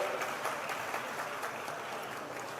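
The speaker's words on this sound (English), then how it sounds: "Give a big round of applause to all the volunteers here." Faint, distant applause from an audience at an inclusion festival in Goa, steady scattered clapping for volunteers lasting a few seconds.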